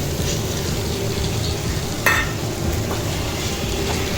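Fried potatoes and chopped egg are stirred in a hot pan, giving a steady close sizzle of frying food with soft scraping and one brief sharper clink of the utensil against the pan.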